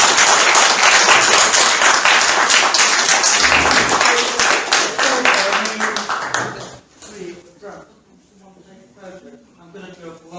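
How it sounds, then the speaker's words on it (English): A meeting audience gives a dense, loud round of applause that fades out after about seven seconds, after which someone speaks alone. "another round of applause"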